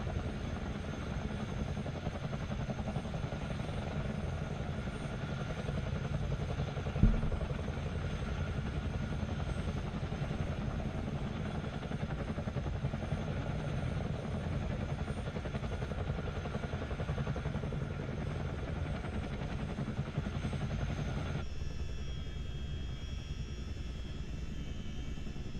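In the game Microsoft Flight Simulator 2020, the rotors of a Chinook CH-47D helicopter produce a steady, droning engine hum. The drone continues unbroken and without speech, then the tone shifts and thins near the end.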